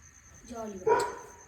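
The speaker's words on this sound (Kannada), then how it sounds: "ನಮ್ಮ ಪಕ್ಕದ ಮನೆಯಲ್ಲಿ ಮರ ಕಡಿತಾ ಇದ್ದಾರೆ, ಹಾಗಾಗಿ ನಾಯಿ ಎಲ್ಲ ಗೊಬ್ಬೆ ಆಗ್ತಾ ಉಂಟು" A dog gives a brief whine rising into a single sharp bark, fairly close, while neighbours cut down a tree next door.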